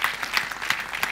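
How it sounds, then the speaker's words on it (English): A church audience claps steadily for women volunteers, a dense, continuous patter of many hands that sounds close and fairly loud, with no speech over it. "I think we should just applaud all these women for the incredible work that they do."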